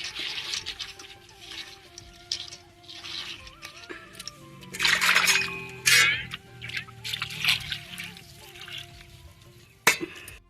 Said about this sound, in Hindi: ये मैंने एक टोपी पानी डालकर दाल को अच्छी तरह से धो लिया है।